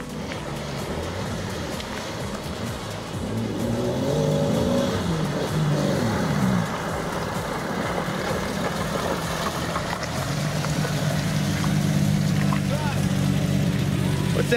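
A two-wheel drive vehicle's engine revs while stuck in mud, a loud continuous rumbling drone that rises and holds, with people talking over it.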